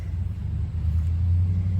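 A work truck's engine runs at a low, steady idle, a soft rumbling drone that swells slightly near the end, with no talking.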